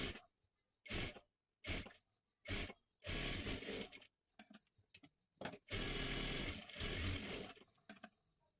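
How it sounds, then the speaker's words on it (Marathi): A sewing machine stitches blouse fabric in stop-start runs, its rapid whirring needle rattle coming in short bursts and two longer stretches, loud and close, with no talking. "इथे मी डबल शिलाई मारून घेतलेली आहे बघू शकता."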